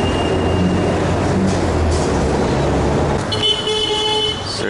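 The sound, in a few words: metro bus ride in Lima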